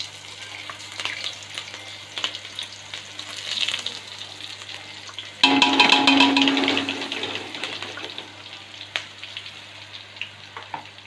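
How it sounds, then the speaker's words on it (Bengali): Chilli and garlic paste hits hot oil with a kalonji tempering, bursting into a loud close sizzle midway after a quieter hiss, then frying on steadily with faint stirring scrapes. "এবার একে একটু ভালো করে নেড়ে চেড়ে ভেজে একটু ব্রাউন কালার করে নেব।"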